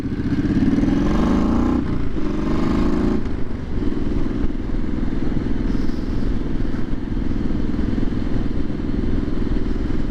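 A Triumph SS 900 motorcycle engine revs up loudly with rising pitch early on, then settles into a steady, throaty exhaust rumble that runs continuously, close by.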